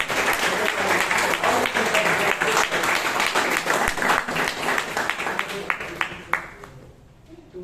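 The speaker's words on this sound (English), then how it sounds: "Can you have a round of applause for the" Audience applause at a Toastmasters club meeting in Bangalore, sustained dense clapping from a room of people that thins and fades toward the end, with a few individual claps standing out.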